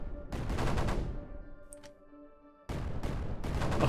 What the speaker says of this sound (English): I love mortars.